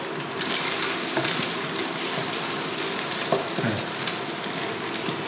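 Eggs fry in hot oil in a wok, giving a steady, close sizzle and crackle with occasional stirring scrapes and no talking.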